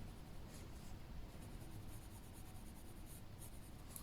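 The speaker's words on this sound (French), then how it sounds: "j'effleure mon papier pour faciliter la transition avec la couleur plus claire." A Castle Arts colored pencil lightly brushes across paper while blending a color gradient, making a soft, continuous, faint scratchy whisper with slight rhythmic strokes.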